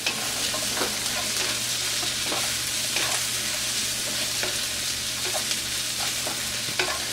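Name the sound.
onions frying with curry leaves for Kerala chicken roast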